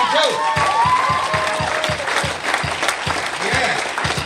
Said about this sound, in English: let's give another round of applause for the old timers